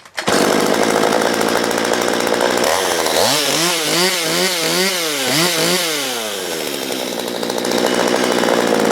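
A Stihl MS 192 TC chainsaw starts up outdoors and runs loud and close, its small two-stroke engine revving up and down in repeated surges before settling to a steady idle-to-high buzz.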